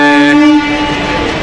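A train on an Indian railway sounds a loud, sustained horn close by. The horn fades after about half a second into the rumble of the train rolling past.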